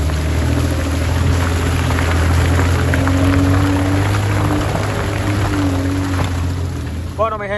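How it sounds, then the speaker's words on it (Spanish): Steady, heavy rain hisses across the whole stretch during an off-road trail ride in Puerto Rico, with a low engine drone humming beneath it. "está lloviendo, el clima está extremo"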